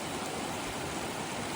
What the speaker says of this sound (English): This is the Kern River crossing